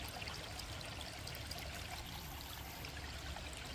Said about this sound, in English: Let me get this bucket rinsed down and run through there.